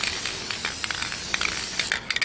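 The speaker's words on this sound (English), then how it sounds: "I spray this on the back of every pad" An aerosol can hisses in short bursts onto the back of a ceramic brake pad during a brake job on a 2008 Saturn Vue, close and fairly quiet with faint clicks.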